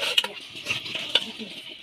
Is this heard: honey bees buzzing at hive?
no